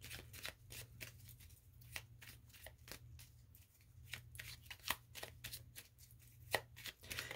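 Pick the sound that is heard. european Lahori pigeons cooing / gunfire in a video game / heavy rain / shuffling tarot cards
shuffling tarot cards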